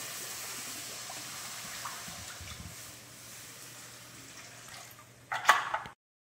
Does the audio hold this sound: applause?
no